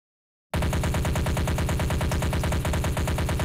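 Sustained automatic weapon spray fire from a first-person shooter game built in Unity, a loud, rapid, unbroken stream of gunshots beginning abruptly after a brief silence and continuing steadily to the end.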